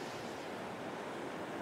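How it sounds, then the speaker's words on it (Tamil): Floodwater from the Sarabanga reservoir's surplus flow rushes steadily into residential houses, a continuous broad wash of water without breaks, fairly loud and close, with no voices. "பாருங்கள் தண்ணி ஃபுல்லாக வந்துட்டுருக்கு"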